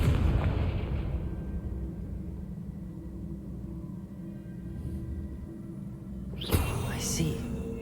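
Confringo blasting spell from the Hogwarts Legacy game on PS5, a low rumbling roar that fades under a steady background hum, then a sharp burst near the end.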